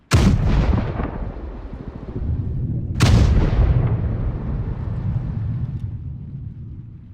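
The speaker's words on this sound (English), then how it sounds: "Let the tank fire, or the Panzerzug." Tank cannon and Panzerzug armored train guns firing in the WDS Poland 39 war game: two loud, heavy booms about three seconds apart, each followed by a long rumbling decay.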